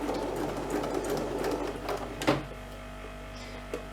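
Sewing machine stitching an ironing board cover, a fast rattling run of stitches that stops abruptly, leaving a low hum with a brief click afterward.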